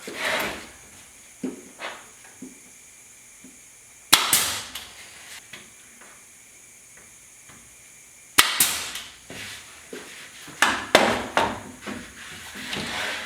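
A hammer drives 2-inch brad nails into wooden window trim in a garage, giving sharp, irregular knocks and taps with a few louder strikes, heard alone and close.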